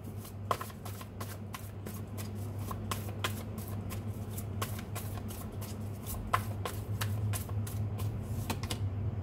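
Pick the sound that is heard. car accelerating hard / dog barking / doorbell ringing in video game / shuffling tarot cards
shuffling tarot cards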